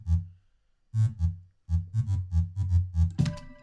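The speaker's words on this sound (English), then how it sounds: "I used FM for the bass line." An FM-synthesized bass line built from a stock FM patch with the modulation depth turned up gives a run of punchy, buzzy, distorted notes in a choppy rhythm, with a pause early on and then a rapid sequence of hits.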